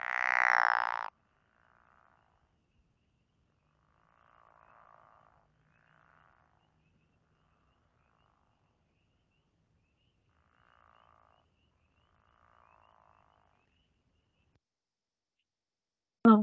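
Several faint, soft frog croaks sound singly and in short clusters at a distance, spread across long silences, followed by a loud close burst at the start and a sharp noise at the end.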